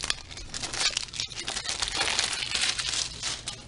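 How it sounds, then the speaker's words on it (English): Someone unwraps a shipped package box. Close, continuous crinkling and crumpling of packing material runs for a few seconds, with no talk over it. "I haven't even opened up the box yet, so let's go ahead and unwrap this"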